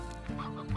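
Hens cluck in the video game Slime Rancher, a steady, continuous clucking over a dense game soundscape with no talking.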